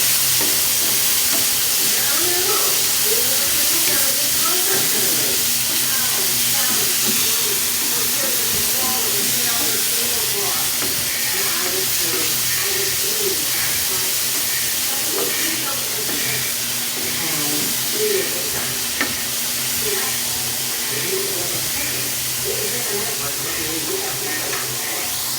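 Green beans sizzle steadily in a pan, cooked for habichuelas guisado, with a constant frying hiss and occasional scraping as they are stirred; a person speaks over the cooking at times.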